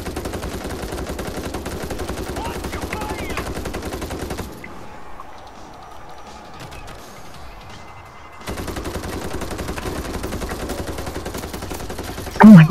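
Gunfire in the World War Z zombie shooter, loud rapid automatic bursts that stop for a few seconds mid-way, then resume at full intensity, with a sharp louder hit at the very end.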